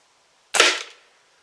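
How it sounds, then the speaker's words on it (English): A Crosman Tryo air rifle fires a single pellet into a target. One sharp, loud, close crack cuts out of silence and trails off quickly within about half a second. "Shox is going to take one more shot at this"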